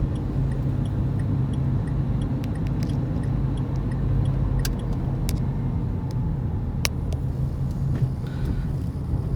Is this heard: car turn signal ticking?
yes